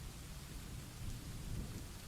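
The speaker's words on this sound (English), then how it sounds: "We have our rolling thunderstorm in the background to help you fall asleep." Steady light rain hisses and patters under a continuous low, rolling rumble of distant thunder, a quiet, even storm with no voices.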